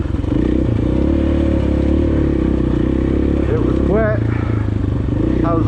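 A KTM 500 EXC-F dirt bike runs off-road on a trail, its engine droning loud and close throughout with rising and falling revs and some clatter, while a voice speaks over it.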